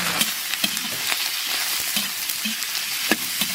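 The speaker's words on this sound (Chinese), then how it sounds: "牛肉炒上色" Beef sizzles in hot oil and caramelized sugar in a wok, giving a dense, continuous frying hiss broken by periodic scrapes and stirs, close by with no talk.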